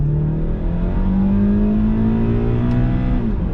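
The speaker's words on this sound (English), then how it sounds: "Now we're just going to try a 0 to 100 real quick." A Honda Accord CL9 in manual mode pulls hard from a standstill with wheel spin. The engine drone climbs steadily in pitch, loud and close from inside the cabin.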